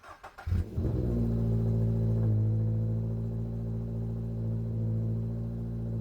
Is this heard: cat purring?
no